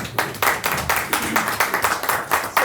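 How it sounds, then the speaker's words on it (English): Brisk, steady clapping from a crowd at a trade conference, dense and rhythmic, continuing loudly with no voices over it. "to big applause"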